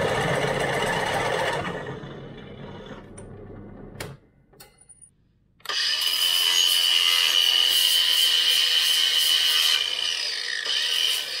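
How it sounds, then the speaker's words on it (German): A 15 mm drill bit bores a hole for a homemade plough on a small two-wheel tractor, grinding loudly, pausing briefly with a few clicks, then whining steadily again at close range. "Und dann nehmen wir einen 15 mm Bohrer."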